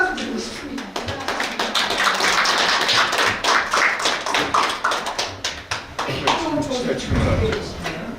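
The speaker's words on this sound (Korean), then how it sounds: "하여튼 고생하신 여러분께 큰 박수 드리고 싶습니다." An audience at a forum on easy-read materials for people with developmental disabilities claps warmly, loud sustained applause with individual claps audible, plus a few voices and some shuffling and a thump near the end.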